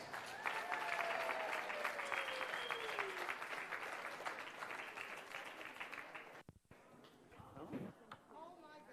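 A large crowd at a UFC weigh-in in Houston, Texas applauds and cheers loudly and steadily, then the roar drops off abruptly near the end, leaving quieter murmuring.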